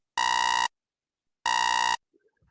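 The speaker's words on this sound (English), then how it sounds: "we have an alarm that we're going to try and test live now and see if it works" A podcast time-limit alarm buzzer sounds twice, two loud identical harsh electronic blasts of about half a second each, separated by a second of silence.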